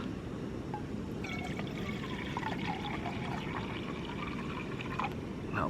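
Water pours steadily into a cooking pot at an outdoor campsite under the northern sky in Ireland, a continuous splashing trickle with faint gurgles, close and alone with no talking.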